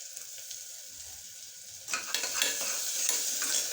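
Crushed cardamom, cinnamon and cloves drop into hot oil and begin to fry, a quiet pan suddenly bursting into a bright, crackling sizzle that holds steady to the end.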